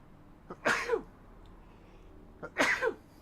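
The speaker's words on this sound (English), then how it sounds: "Oh, I gotta sneeze." Two sneezes spaced about two seconds apart, each a sharp inhaled catch followed by a loud burst, close to the mic with no talking in between.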